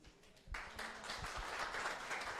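A church congregation breaks into applause after a soft opening, the clapping swelling quickly and holding steady and fairly distant as a dense wash of many hands.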